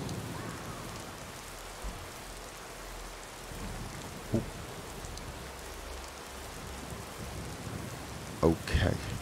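Steady rain falling in the video game Skyrim, a soft continuous hiss at moderate distance with a few faint thumps and brief louder bursts near the end.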